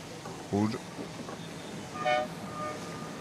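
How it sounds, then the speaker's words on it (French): Two short horn blasts signal the start of a sprint boat race at a French championship, sounding over crowd chatter and background noise, the first a clear tonal toot, the second higher and brighter. "Ça passe avec le son, le klaxon qui donne le départ."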